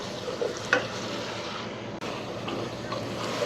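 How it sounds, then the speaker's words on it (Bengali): Shrimp and Malabar spinach sauté in a pan, giving a steady, close sizzle with a few brief scraping stir sounds and no talking. "এই চিংড়ি মাছটা দেওয়ার পরে আমি আরও 2 মিনিট ভালোভাবে কষিয়ে নিব, তাহলে মাছটাও কষা হয়ে যাবে"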